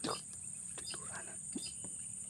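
Crickets chirp steadily and faintly outdoors in a quiet, grassy area where birds are being hunted, with a high continuous trill under occasional soft voices and rustling.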